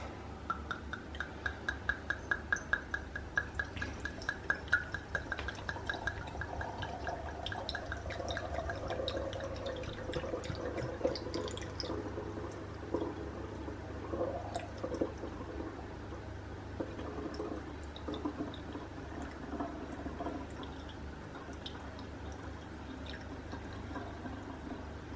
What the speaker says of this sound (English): I'm actually going to put it through the aerator.